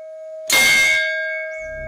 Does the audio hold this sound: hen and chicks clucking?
no